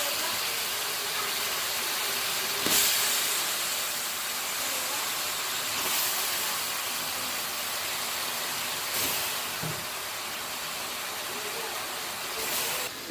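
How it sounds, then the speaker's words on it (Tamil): Sliced bitter gourd sautés with minced mutton in a pan for kheema, giving a loud, continuous hiss. The hiss swells in brief bursts roughly every three seconds as the mixture is turned. "பாருங்க, நம்ம பாவக்காயும் சேர்த்து நல்லா வதக்கிக்கிட்டோம்"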